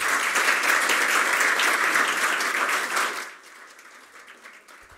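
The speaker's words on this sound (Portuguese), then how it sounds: "eu peço uma salva de palmas para nosso homenageado." Loud, sustained applause from an audience at a formal ceremony awarding honorary citizenship of Natal, thick and even for about three seconds, then fading to scattered claps and room noise.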